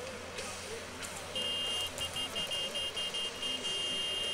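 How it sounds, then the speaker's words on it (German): Horn from a vehicle in Farming Simulator 19 sounds in a run of sharp, shrill repeated honks, loud and insistent over a low engine-like rumble of game audio. "Gott, eine penetrante Hupe."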